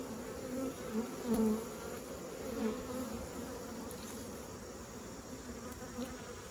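Honey bees swarming around honey supers on 8-frame and 10-frame hives, a dense continuous drone that stays loud and steady throughout, close up and without talk.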